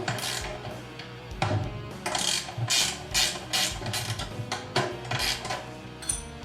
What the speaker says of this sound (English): It has two 1/2-inch bolts going through it, so a 1/2-inch wrench works perfect.